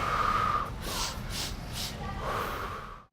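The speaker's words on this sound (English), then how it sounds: "Through the nose, 1 breath out through the mouth, warrior breath." Children doing a warrior breath exercise, breathing in through the nose and out through the mouth; several sharp, forceful breaths pulse one after another, close and fairly loud, with a gasping, snorting quality.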